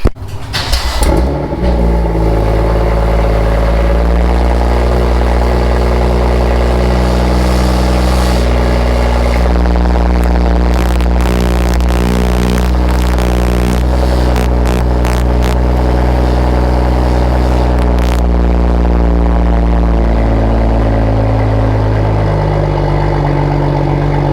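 A BMW F87 M2 LCI cold starts with a sharp crank and flare at the start, then settles into a loud, steady, deep idle that holds close up to the end.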